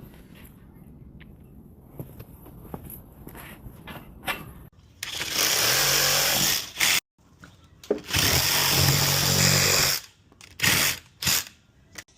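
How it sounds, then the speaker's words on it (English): A power saw cuts wood beside an electrical panel during a panel upgrade, roaring loud and close in two long bursts of about two seconds each, with a few shorter bursts afterward and quieter handling sounds before. "We're gonna cut all this all the way up to that wood"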